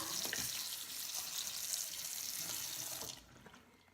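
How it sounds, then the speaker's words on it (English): Clean running water pours steadily from a tap while a makeup brush is rinsed under it, a close, continuous splashing rush that lasts about three seconds before cutting off, with no talking. "I will rinse it under some clean running water just to be sure that we don't have any soap left"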